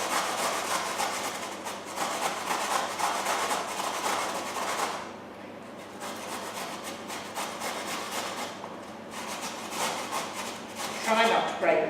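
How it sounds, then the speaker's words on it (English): A carrot is rubbed down the large holes of a box grater in quick repeated strokes, a dry scratchy rasping that pauses briefly midway and then resumes at a steady pace. "then you get your grater, large hole of the grater, flat hand, and you grate your carrot."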